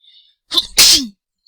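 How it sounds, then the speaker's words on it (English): A single sharp sneeze, loud and close, with a quick breathy intake just before the burst. "I sneeze when I get excited"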